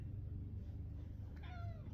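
A cat gives a single short meow near the end, over a constant low rumbling background, close and moderately loud, with no talking.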